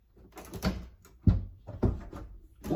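A door at home is handled and moved, giving several separate wooden knocks and rattling thumps close by, spaced irregularly with quieter scraping between them and no talking.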